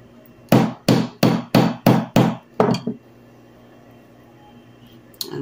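A hammer strikes paperclip wire to flatten it, seven sharp, close metallic blows in a quick, even run, then a pause and one more faint tap.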